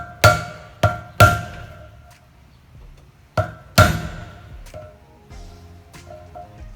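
Sharp metallic hammer blows ring out as a bearing is driven into a powder-coated motorcycle wheel, three in quick succession, then a pause and two more, each leaving a ringing decay.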